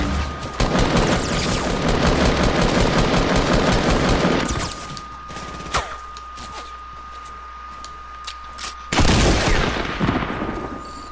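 A rapid burst of gunfire in a sniper-focused shooter game starts the scene with dense, loud rattling shots, then falls to a quieter stretch with a few isolated cracks before a second loud volley erupts near the end.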